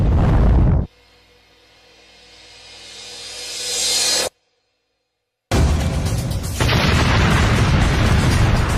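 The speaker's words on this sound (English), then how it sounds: "El Al 1862 smashes into the 6th floor of the 11-story apartment block." An El Al Boeing 747 cargo jet slams into the sixth floor of an eleven-story apartment block, a massive roaring explosion that swells into a rising rushing roar, cuts to silence, then returns as a sustained loud blast of noise.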